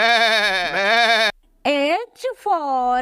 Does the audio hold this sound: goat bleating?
yes